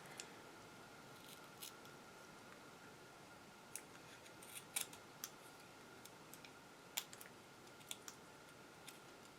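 Small scissors snipping paper off the back of a crystal angel, a faint scattered series of quick crisp clicks and snips over quiet room hiss, with no talking.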